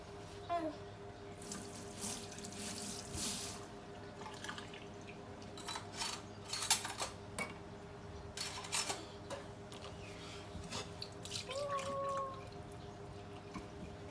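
Dishes being washed in a sink under a running tap, with a steady stream of water, scattered clinks and splashes, and brief voices in the background.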